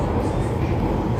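Steady, loud rumble of a metro train ride heard from inside the carriage, a continuous low roar and rattle with no pause, and a faint voice under it.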